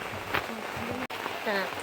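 Light, steady rain patters in the background while a person speaks over it nearby.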